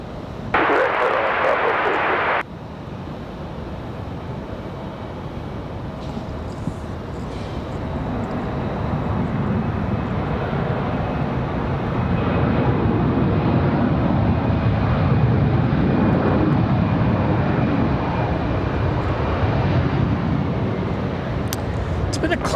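An airliner landing on runway 23 right at Raleigh-Durham International Airport: a steady, broad engine roar that slowly swells and stays loud for a long stretch after a brief radio voice at the start.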